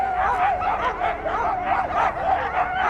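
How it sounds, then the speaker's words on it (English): Around thirty dogs bark at once on a film set, a dense, continuous chorus of overlapping barks, yips and whimpers, loud and close for the whole stretch. "We might have had 30 dogs all barking at the same time."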